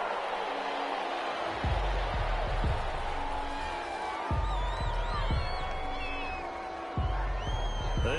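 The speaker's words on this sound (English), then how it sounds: "This home crowd, they're happy with that call." The home crowd in the video game Madden cheers with a steady roar, scattered whoops and whistles rising above it, and periodic low thumps.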